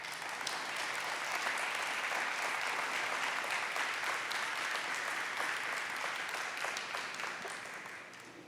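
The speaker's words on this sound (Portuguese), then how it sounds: "Você pode aplaudir essa palavra?" A church congregation applauds after a sermon line, a dense, steady wash of many hands clapping at moderate distance, holding evenly for several seconds before easing slightly at the end.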